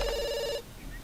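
A telephone rings in The Sims video game, a bright repeating electronic ring tone with harmonic lines that stops about halfway through, leaving quiet room ambience.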